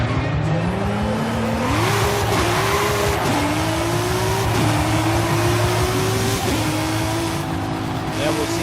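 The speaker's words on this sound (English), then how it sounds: "we can take this car to the interstate and we'll see how it drives on the interstate" Audi RS 5 driven in Forza Horizon 5 along a game interstate, its engine note a steady loud drone that climbs through repeated gear shifts, rising in pitch and dropping back several times, with faint tire noise and speech over it.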